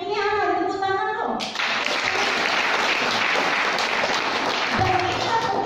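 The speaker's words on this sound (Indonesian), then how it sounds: "Tepuk tangan loh." A voice speaks over amplified sound before a sudden wave of audience applause breaks out at a seminar, many people clapping steadily at moderate distance.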